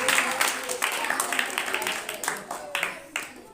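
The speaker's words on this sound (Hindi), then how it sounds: "चलिए एक बार जोरदार ताली मारिए कोमल कुमारी के लिए जो 52 नंबर्स प्राप्त किए" A school audience claps loudly for student Komal Kumari after she scores 52 marks, a dense, steady patter of many hands that swells in uneven bursts and carries on throughout.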